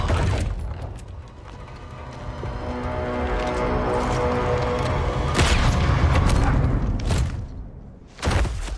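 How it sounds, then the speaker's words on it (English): Vickers machine gun fire in Battlefield 1, a sustained loud mechanical rattle with booming low thuds running almost throughout, briefly easing near the end before a final burst. "I love a good Vickers gun."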